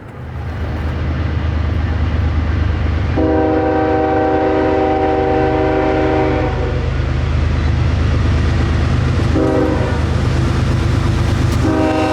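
A freight train rumbles past at Pennsylvania's Horseshoe Curve near Altoona in winter, its horn sounding a long chord and then shorter blasts over the constant loud roar of wheels and engines.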